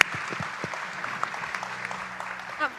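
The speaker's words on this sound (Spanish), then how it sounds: "un aplauso a todos los panelistas" Applause for the panelists at a national prosperity panel during a sustainability summit in Peru, a moderate round of clapping heard from some distance, fairly faint and softly diffuse in a large hall.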